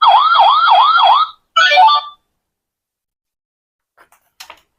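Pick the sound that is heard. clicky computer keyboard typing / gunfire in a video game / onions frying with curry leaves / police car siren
police car siren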